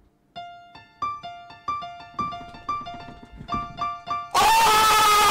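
Piano notes in the Piano Tiles game ring out as a quick repeating three-note pattern of separate bright plucks, then a loud burst of brighter game sound closes the sequence.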